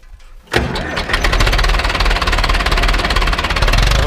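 A tractor engine cranks and catches with a sudden roar, then settles into a loud, steady chugging idle close by.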